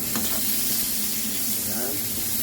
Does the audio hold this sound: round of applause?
no